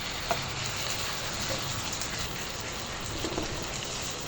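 Pork frying in a pan as the base for sinigang, a steady, soft crackling sizzle like light rain with a few sharper pops, heard alone.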